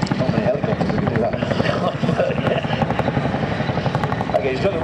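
A Boeing Chinook twin-rotor helicopter flying a display at the Duxford Airshow, its rapid rotor chop and engine roar steady and fairly loud throughout, with people talking over it.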